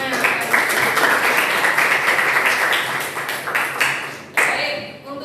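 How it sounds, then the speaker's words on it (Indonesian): Classroom applause for student groups after their presentations, a sustained close round of many hands clapping with voices mixed in, fading toward the end. "Kita beri aplaus untuk semuanya."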